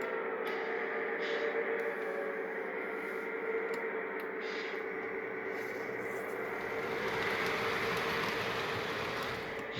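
A Lionel Legacy Burlington F3 ABA model train pulling a long California Zephyr consist plays its steady rail sound, a continuous faint rolling hum and clatter with no talking.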